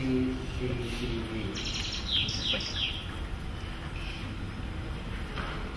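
Recorded songbird song, a few high clear chirping and tweeting phrases, moderately faint, over a steady background hiss.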